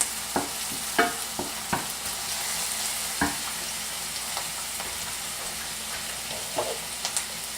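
Chopped vegetables sautéing in a pan as the base for a simple Italian tomato sauce, a steady close sizzle with scattered sharp clicks and taps from a utensil, no talking.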